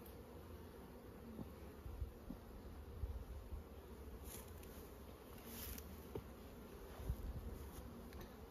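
Honey bees buzz steadily at an opened hive during spring management, a soft continuous drone close by with a few faint rustles and no talking.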